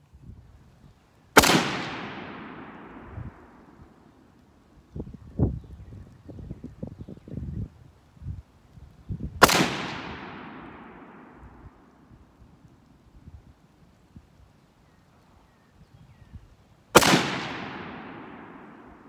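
FN rifle fired at an outdoor range, three sharp, loud gunshots spaced several seconds apart, each with a trailing outdoor echo, and quieter handling noises between the shots.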